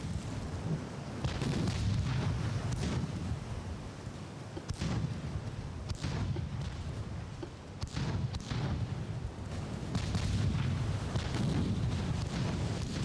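Naval gunfire in the warship game Ultimate Admiral: Dreadnoughts, with repeated deep booms and rumbling blasts that rise over a continuous low roar of battle for the whole stretch, some shots sharp and near, others dull and distant.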